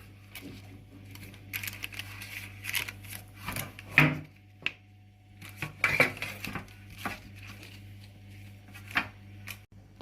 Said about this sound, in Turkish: Hepsini tepsime yerleştireceğim.